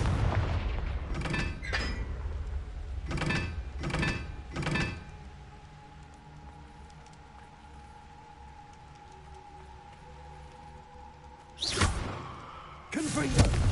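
Confringo, a fire-blast spell in the video game Hogwarts Legacy, goes off in several loud, booming bursts in quick succession, then a quiet stretch of low rumble, then two more sharp explosive blasts near the end.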